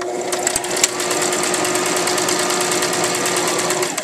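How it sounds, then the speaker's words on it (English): A sewing machine runs steadily along a skirt's bottom hem, a loud continuous buzzing whir with rapid needle clatter held at even speed from start to finish, no voices over it. "Now we're going to sew the bottom hem."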